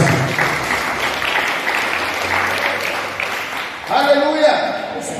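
A church congregation claps hands in praise, a dense, continuous burst of applause that swells and then fades, with voices rising near the end.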